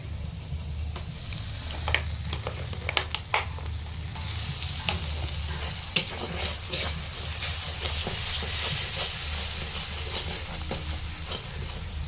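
Ginger garlic paste goes into chicken frying in a pan, and a steady sizzle and hiss runs under scattered scraping stirs and clinks close by.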